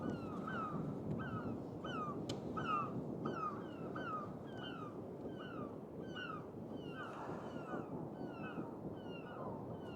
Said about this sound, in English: Still being chased by gulls.